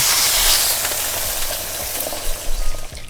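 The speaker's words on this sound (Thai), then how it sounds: "อย่างนี้ทอดเลย" Food fries in a pan in the restaurant video game Kebab Chefs, a bright, steady sizzling hiss that slowly fades, with a few soft low thumps near the end.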